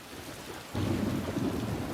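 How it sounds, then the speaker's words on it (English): Heavy rain pours in a steady roar, and a low rumble of thunder swells in partway through as a storm lashes the east coast of Australia; no voices. "A fierce storm lashed the east coast of Australia the night before the first test. The rain continued the next day"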